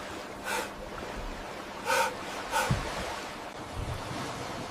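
Sea waves surge and wash in a few broad swells at moderate distance, with a faint tonal layer beneath and no voices.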